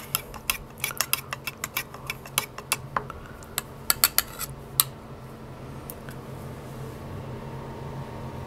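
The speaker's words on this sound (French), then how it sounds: "On mélange tout ça." A utensil mixes ingredients in a bowl with quick rhythmic clinks and taps, close and fairly sharp, dense at first and then thinning out to a few strokes over a low steady hum.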